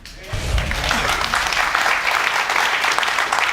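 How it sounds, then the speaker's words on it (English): Dense, steady applause from a large television courtroom-show studio audience swells in quickly and holds at full strength. "The audience applauds."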